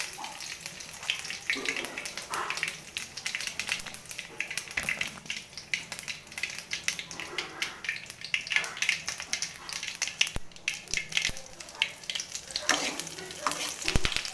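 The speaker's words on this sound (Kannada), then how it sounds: "ಈಗ ಕರ್ಬೇವಿನ ಸೊಪ್ಪು ಹಾಕಿ ಚೆಂದ ಫ್ರೈ ಮಾಡಬೇಕು." Mustard seeds and curry leaves fry in a pan, giving a steady crackling sizzle with scattered sharp pops, close and moderately quiet and running continuously without any voice.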